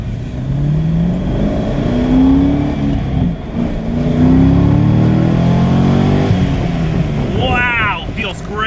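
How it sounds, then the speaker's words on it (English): A previously totaled, hit-and-run damaged car accelerating to about 40 mph on a slightly wet road: engine revs climbing through two rising gear pulls, tire hiss underneath, heard from inside the cabin, with a voice briefly at the end. "I just want to be able to get this car up to about 40 miles an hour and see if there's any vibrations"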